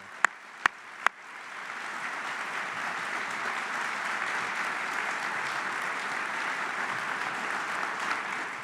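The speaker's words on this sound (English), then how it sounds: "How about a big round of applause for Brent?" Audience applause at a military promotion ceremony for Brent, rising after a few sharp isolated claps into sustained, steady clapping from a large crowd that holds evenly throughout.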